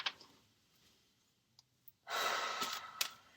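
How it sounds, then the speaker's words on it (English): A slow breath drawn in is followed by a louder, longer breathy exhale near the end, close and intimate in a quiet room, with a few faint clicks in between. "deep breath in for me, deep breath out"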